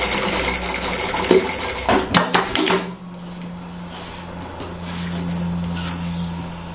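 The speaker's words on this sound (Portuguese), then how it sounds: "Vocês vão ver eu costurando aqui agora" A sewing machine stitches patchwork fabric for a Seminole-style dish towel in a close, loud mechanical rattle that stops after about three seconds, leaving a low steady hum.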